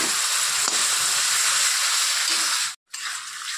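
Hot oil in a pan on low gas sizzles loudly and steadily as tomato paste goes in, a dense close hiss that cuts out briefly near the end before resuming more quietly.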